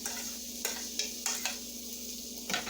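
Chopped onions going into a hot pan for pork chops, giving a soft steady sizzle with several brief scraping stir sounds throughout, close and alone without talk.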